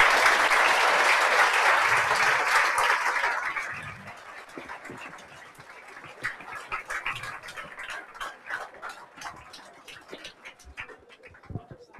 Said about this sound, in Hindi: तो आपके बीच क्लास में जोरदार तालियों से सर का स्वागत किया जाए